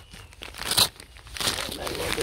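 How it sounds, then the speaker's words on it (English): Paper wrapping crinkles and tears as a wrapped book is opened one-handed, a close, brief burst of crackly rustling that swells and fades twice. "the book is numero 2, and I'm going to unwrap it for you guys"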